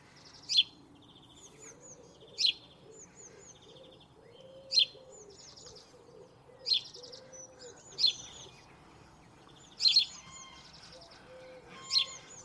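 A sparrow chirps insistently, giving a sharp cheep every couple of seconds in a steady repeating rhythm, over a bed of softer bird whistles and a low, distant dove cooing near the nests.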